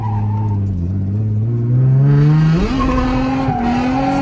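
Nissan Z drift car at a drift event, engine revving hard and climbing in pitch with tires squealing and skidding on track, loud and close throughout with no talk.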